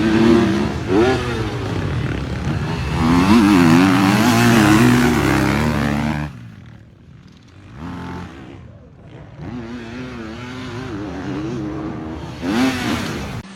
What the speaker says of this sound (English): Motocross riding